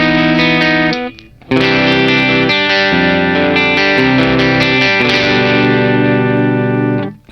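Electric guitar with bridge pickup played through a Mooer 005 amp pedal with no effects, a gritty, dirty overdriven tone; sustained chords ring loud and close with a brief pause, with no talking.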